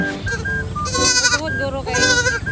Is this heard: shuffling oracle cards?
no